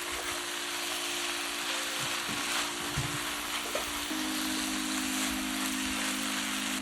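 Webfoot octopus stir-fried with spicy seasoning and green onion over high heat, giving a steady close sizzle with occasional scraping stirs, alone without talk.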